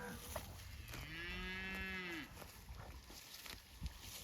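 A cow on a grass farm lets out one long, clear moo lasting over a second, moderately close, amid faint outdoor wind and scattered small knocks.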